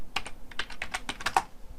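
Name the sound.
typing on a computer keyboard with one hand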